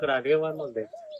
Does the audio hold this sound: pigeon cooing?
yes